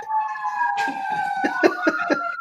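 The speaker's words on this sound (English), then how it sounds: "Oh, look, the sirens, right when we say that" A siren wails with steady tones throughout in Pittsburgh, while people talk and laugh over it in the foreground.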